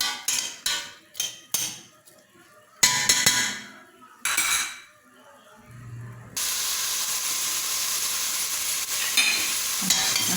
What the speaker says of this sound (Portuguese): A cebola já tá fritando